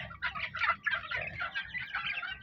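Young roosters (stags) in a backyard flock give a busy run of overlapping crowing, clucking and gobble-like calls, close and moderately loud, with no talking.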